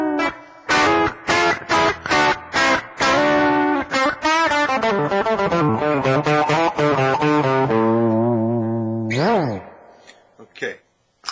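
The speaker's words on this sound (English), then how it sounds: "That's the Blues Driver. That's your more light bluesy distortion." An electric guitar played on the neck pickup runs through a Boss Blues Driver pedal set for light, bluesy distortion. Loud picked notes and chords move in a steady phrase and end with sustained, bending tones.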